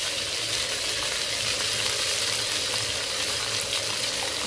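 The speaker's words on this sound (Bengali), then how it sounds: "লবণ হলুদ দিয়ে কাঁঠালটা ভালোভাবে ভেজে নেব।" Young jackfruit pieces fry in a pan with pink Himalayan rock salt and turmeric, giving a steady, close sizzle with faint stirring throughout.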